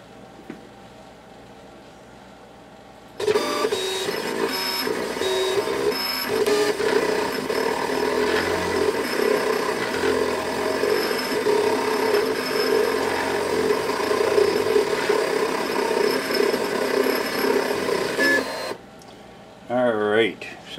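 A vinyl cutter slices RC airplane covering film, its carriage motor buzzing and whining steadily for about fifteen seconds after a quiet start, then stopping, with faint movement noises around it.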